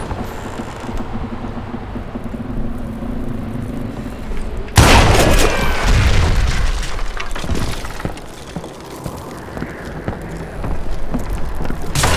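A dynamite blast in the video game Call of Juarez: Gunslinger erupts suddenly as one loud, broadband boom after a quiet stretch, followed by crackling debris and rumbling that lingers for several seconds.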